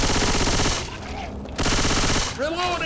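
Rapid automatic gunfire in the Left 4 Dead 2 video game rattles loudly in two dense bursts separated by a brief lull, with a voice briefly heard near the end.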